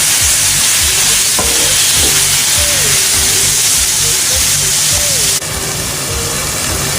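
Tomatoes and garam masala frying in a pan for mutton liver masala, a loud continuous sizzle and hiss with a spoon scraping and stirring through it.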